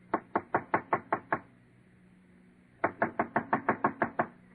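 Two bursts of rapid knocking on a door, about seven sharp raps each, separated by a pause, loud and close with no talk over them, from a comedy radio program.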